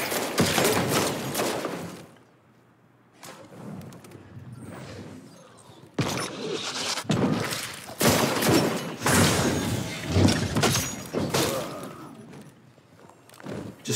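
Video game gunfire aimed at a turret, rapid bursts of shots and thuds coming in uneven clusters with short lulls, fairly close and moderately loud.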